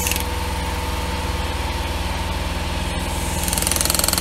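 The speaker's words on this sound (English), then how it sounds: "if you guys hear the compressor in the background, just don't mind the compressor." Steady mechanical drone of an air compressor motor running continuously, loud and close, with a rapid chugging pulse underneath.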